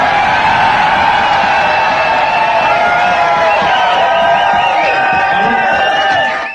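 A packed crowd at a comedy gong show cheers and whoops loudly for a comedian, a sustained roar of voices with rising shouts and yells layered on top, fading slightly at the end.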